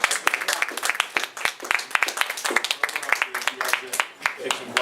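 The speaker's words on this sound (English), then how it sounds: "I think we should have a round of applause for that." An audience at a celebrity brunch event gives a round of applause, with sharp individual claps scattered over a lively room and people talking throughout.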